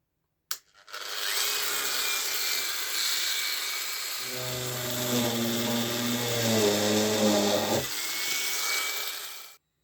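A small power drill with a 1.5 mm bit whirs continuously, its pitch dropping and steadying into a deeper grind as it bites into material for a few seconds, then stops.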